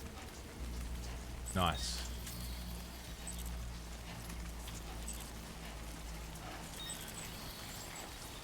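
Timefall rain in the video game Death Stranding 2, a soft steady hiss of rainfall under the whole stretch, with a brief sharp sweep partway through and a voice speaking briefly.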